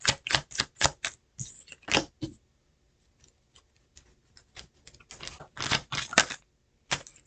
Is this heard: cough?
no